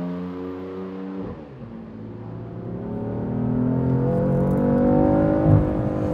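A BMW F80 M3 accelerates hard at Portimao Circuit, its engine note climbing steadily through the revs after a quick gear change, loud and close throughout.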